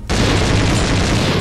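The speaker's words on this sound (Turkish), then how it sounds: "Şunun roketiyle şunu vuralım. Tamam. Vurduk değil mi?" A rocket strikes a target in the video game Conflict: Desert Storm, setting off a loud, sudden explosion that erupts and roars on as a sustained, broad blast.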